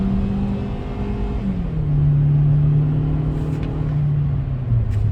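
A Hyundai i20 1.4 MPI engine drones under full throttle while climbing a hill, a steady in-cabin hum whose pitch holds and then shifts slightly as it pulls under load, with no one talking.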